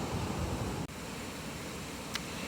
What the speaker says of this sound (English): You can hear the rapids in the background by the river here.